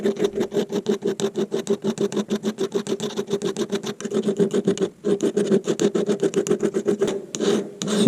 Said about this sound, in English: I'll pull out a couple of files and see if that helps a bit.